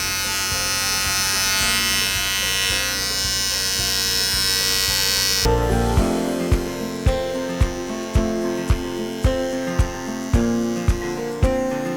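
Electric clippers trim the paw pads of a dog named Dash, first as a steady close buzz, then as a series of short, regular buzzing pulses as the blade presses repeatedly into the fur between the pads.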